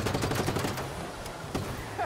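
Rapid gunfire in Just Cause 3, a quick volley of shots in the first moment followed by a few scattered single cracks, loud over a dense game background.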